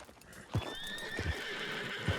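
In the video game Red Dead Redemption 2, a horse's hooves clop in steady, evenly spaced heavy steps while a faint whinny carries over a constant background hiss.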